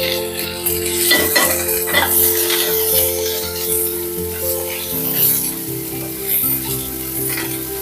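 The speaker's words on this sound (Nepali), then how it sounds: "पहिला त भिन्डीलाई भुट्न पर्छ।" Okra sizzling in two to three spoons of hot oil in a pan, a continuous bright crackle, with stirring scrapes and utensil knocks punctuating it and a steady tonal hum beneath.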